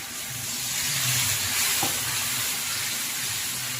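Taro and potato pieces fry with salt, turmeric and a splash of water, producing a loud, continuous hissing sizzle that swells slightly midway and then holds steady.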